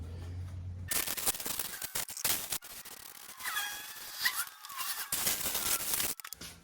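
Compressed air blasts off a VW Beetle ball joint adjustable beam in several loud, close bursts of broadband hiss, separated by short pauses.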